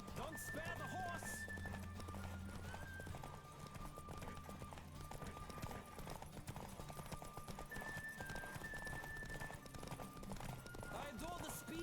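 Fast, driving hoofbeats of a racing horse in The Witcher 3 run steadily for the whole stretch, with whinnies now and then, layered under game music and spoken voices.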